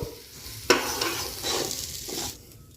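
Washed rice stir-fried a little at a time with masala in a hot pan, sizzling steadily close up with scraping stirring strokes and a sharp clink partway through.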